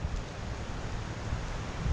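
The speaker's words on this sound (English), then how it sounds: "And you might be able to hear that wind in the background." Steady outdoor wind blowing ahead of an approaching storm front in the Deep South, a broad continuous rush with low buffeting gusts and no speech.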